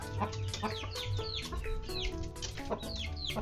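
Chickens in a coop clucking and squawking continuously, many overlapping calls at moderate distance with background clatter and no talk.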